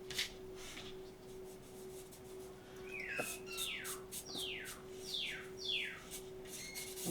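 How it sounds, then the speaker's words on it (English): Pet parrots call and chirp indoors: a series of sharp descending whistles and tweets, moderately close, repeating irregularly over a steady low hum. "Now that I'm down here, my parrots all want to entertain us."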